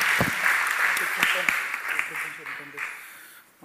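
An audience at a Barcelona documentary event applauds for the master's programme group from the Autònoma, a steady wash of many hands clapping with a few sharp nearby claps, fading toward the end.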